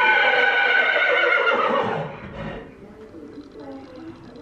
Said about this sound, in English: That's a noisy horse beside you.